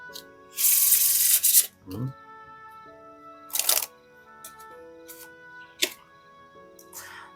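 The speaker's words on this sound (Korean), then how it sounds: "오랜만에 카드 섞는 소리 한번 들려드릴게요." Quick riffling bursts of tarot cards being shuffled, several short rounds separated by pauses, over soft background music.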